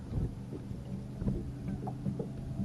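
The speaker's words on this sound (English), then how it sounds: "It's windy" Wind blows steadily across a big canal on a 53-degree day during a bowfishing tournament, a constant low rumble of buffeting against the microphone with no voices.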